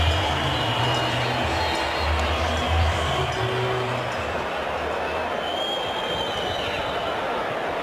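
Cricket crowd at a West Indies versus Australia Test in Barbados cheering a boundary, a dense, sustained roar of many voices that fades slightly, with a commentator's voice talking over it.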